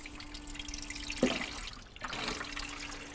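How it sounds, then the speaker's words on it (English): Water pours and splashes into an ice maker's reservoir in short bursts, with a brief pause midway, close and fairly quiet. "fill the reservoir with water."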